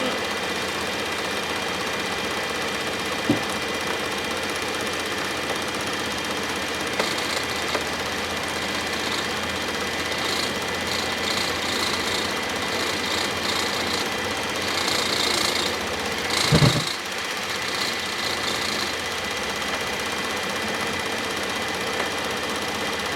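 A 2010-2016 Cadillac SRX engine idles steadily after a serpentine belt replacement, with a smooth, even hum and faint mechanical ticking, one brief louder clunk partway through.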